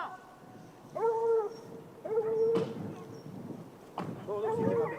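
Hunting hounds bay during a hare hunt with hounds: three drawn-out, tonal howling calls arrive at moderate distance, separated by short pauses, over a low outdoor background.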